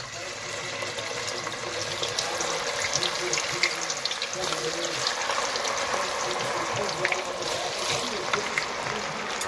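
French fries sizzling in a deep fryer in a bar kitchen, a steady bubbling hiss that holds at moderate level throughout with no pauses.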